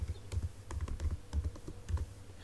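Typing on a computer keyboard, quiet close key clicks in short irregular bursts with brief pauses between, no voices.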